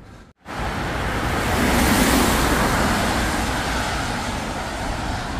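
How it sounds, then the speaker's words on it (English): Cars passing on a road during a storm, a loud, broad rushing roar of traffic that cuts in abruptly after a brief gap, swells and holds steady, heard close by with wind-like wash and no talk. "I just need to get around this corner, but there's cars coming"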